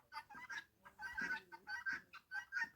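Free-ranging chickens cluck in a quick series of short, close bursts with brief gaps, moderately quiet.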